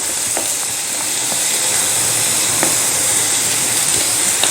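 Bell pepper, cabbage and tomato sautéing in a pan give a steady loud sizzle with a few light stirring clicks, continuous and close, with no voices.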